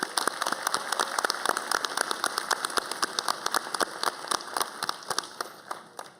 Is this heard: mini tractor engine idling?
no